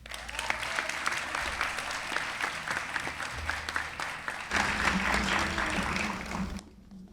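Sustained applause from a graduation audience, a dense steady wash of many hands clapping that swells louder midway and then cuts off near the end, with no speech over it.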